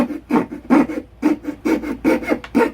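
Saw cutting along a marked line in sheet material for an LED lantern, a steady series of about nine rasping strokes, close and fairly loud, with no talking.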